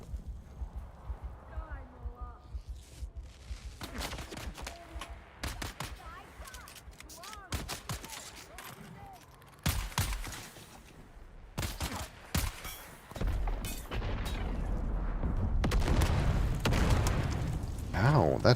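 Repeated explosive bangs and bursts of gunfire from an action game, some sharp and close, building into a dense roar near the end, with talking in between.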